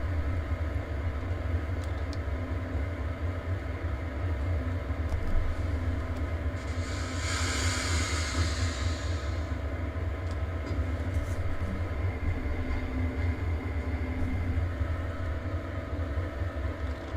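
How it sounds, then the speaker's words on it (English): A train rumbles steadily in Train Sim World, a continuous low drone with a brief hissing burst midway and no voices. "I hear a train."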